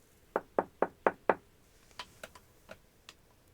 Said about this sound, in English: He passed the door a dozen times before he had the courage to go up and knock.